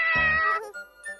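A cat meows once in a cartoon episode, a loud, bright, drawn-out cry close up, followed by faint tinkling.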